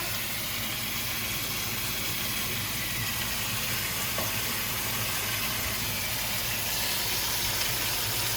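Turkey bacon fries in a pan, giving a constant close hiss and sizzle that holds level the whole time, over a low steady hum, with no talk.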